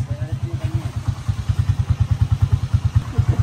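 A motorcycle engine idling at a repair shop, its rapid, even chugging pulses steady and close throughout, with a faint clatter mixed in.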